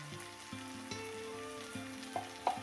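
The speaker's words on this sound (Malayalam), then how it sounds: "അപ്പോൾ എല്ലാം കൂടി നമുക്കിതൊന്ന് വഴറ്റിയെടുക്കാം" Okra and tomato curry with turmeric and fenugreek powder sautés in a pan, a low steady sizzle with a few soft stirring knocks and a brighter clink near the end.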